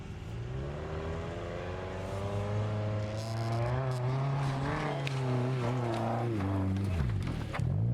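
A car straining up a giant sand dune, its engine droning loud and steady with rising and falling revs, close by throughout.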